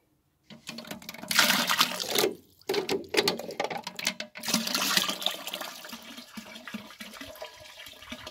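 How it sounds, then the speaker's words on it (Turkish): Water poured out for making village-style sour tarhana with ayran, a splashing, gurgling pour that runs steadily with a couple of short breaks and then tapers off, close and fairly loud, with no talking. "Biraz da su dökeceğim şimdi."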